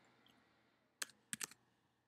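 A phone number is typed on a computer keyboard as three crisp keystrokes, one alone and then a quick pair, close and clear over a quiet room hum.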